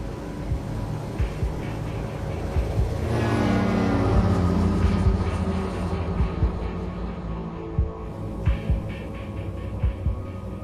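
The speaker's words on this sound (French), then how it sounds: "Le commandant de bord surveille la vitesse air pendant le décollage." An airliner's takeoff roll and rotation heard from inside the cabin: a loud, steady engine roar and hum that swells as power builds, with rhythmic rumbling thumps from the runway.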